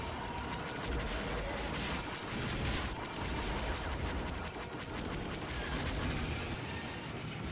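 Continuous gunfire and blasts from an old Star Wars video game, with TIE fighters swarming; dense, steady rapid shooting and explosions fill the whole stretch at even loudness, with no talking.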